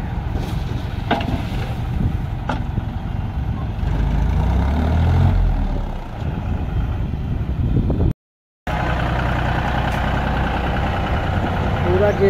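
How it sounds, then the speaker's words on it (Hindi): A tractor engine runs steadily while doing excavator-style digging and filling work, a loud, constant low rumble with brief rises in effort and one short break. "पूरा जेसीबी का काम गाइस कर रहा है ये ट्रैक्टर"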